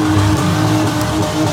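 Small trucks and vans at a county fair demolition derby heat, engines revving hard together at the start, a loud continuous motor roar close by with no talk.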